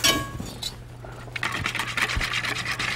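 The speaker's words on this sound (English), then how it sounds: "now we're going to give it a quick whisk" Mustard sauce is whisked briskly in a bowl, a quick run of rhythmic scraping and light clinking strokes, close and fairly loud, with no talk.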